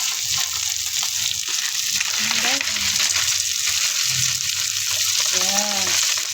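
Garlic sizzles loudly and steadily in a hot pan at the start of a Filipino spinach dish with ground pork, a dense continuous frying hiss heard up close, with faint voices murmuring underneath.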